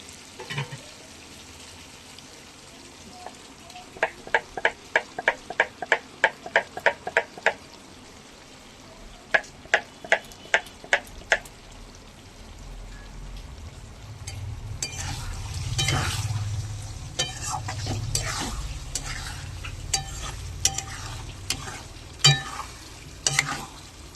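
Chicken frying in a pan as spice masala goes in: a utensil clacks and scrapes in quick rhythmic bursts, then a louder, dense sizzle rises and holds, broken by a few sharp scrapes near the end.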